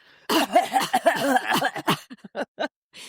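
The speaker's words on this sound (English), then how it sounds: "The driest cough I have ever heard in my life" A short run of dry, hacking coughs, close and loud, tapering into a few quick, clipped bursts.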